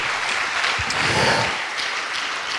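A church congregation bursts into steady applause during a sermon, a continuous, fairly loud wash of clapping with a faint voice briefly rising within it.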